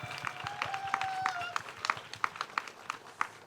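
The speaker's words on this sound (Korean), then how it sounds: "박수 부탁드립니다." Scattered applause from an audience at a youth mock-trial competition award ceremony, distinct separate claps at a moderate distance with a faint tonal whine running underneath early on.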